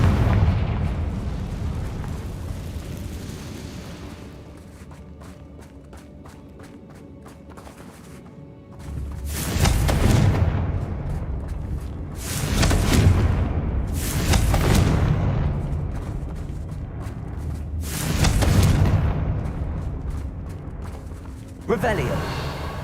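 Confringo blasting spells go off in Hogwarts Legacy as several loud, booming explosions, each bursting hard and then rumbling away, spaced a few seconds apart. A quieter stretch of low ambience comes first.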